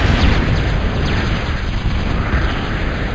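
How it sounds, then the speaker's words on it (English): Continuous roar of a bombing run in a strategy video game, with dense overlapping explosions and flak fire forming a loud, unbroken rumble that never lets up. "Here comes another bombing run. Flak right here, fire."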